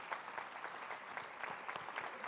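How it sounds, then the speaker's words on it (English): Steady audience applause at a medical education conference fills the room, dense continuous clapping with no talk over it. "Can you all give a round of applause?"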